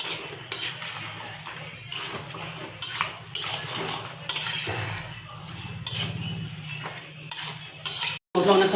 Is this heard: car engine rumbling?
no